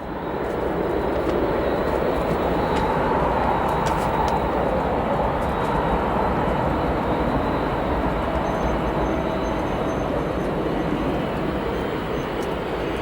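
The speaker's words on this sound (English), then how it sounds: "So the 757 that arrived a few minutes ago. Spooling up a little bit." A Boeing 757 at Chicago O'Hare spooling up its jet engines, a loud, sustained broadband roar that holds steady throughout, heard from a spotting position with no talking.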